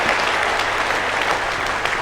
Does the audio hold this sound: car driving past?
no